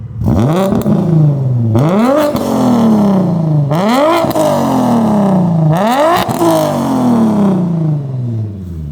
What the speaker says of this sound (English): His car sounds like a G37 with eBay turbo.